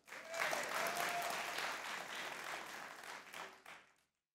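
Studio audience applause on a Pakistani cricket talk show, a dense, steady wash of clapping that swells quickly, holds for about three seconds, then tapers off and stops.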